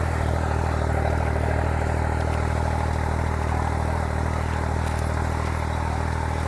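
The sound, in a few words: tractor engine started, Mahindra 5620 CRDi vs 3630 TX Plus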